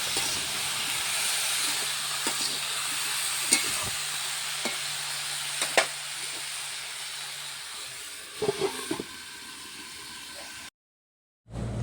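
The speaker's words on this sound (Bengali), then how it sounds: "এখন ভালোভাবে কষিয়ে নেব নাড়াচাড়া করে" Chachchari vegetables with onion, nigella seed tempering, salt and turmeric are sautéed and stirred in a pan, giving a steady frying hiss with occasional spoon scrapes and taps and a low background hum, briefly cutting out near the end.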